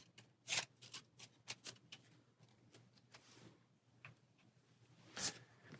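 Board game cards for Arkham Horror being shuffled by hand at close range, a run of quick riffling bursts and soft slaps with quiet pauses between, no talking.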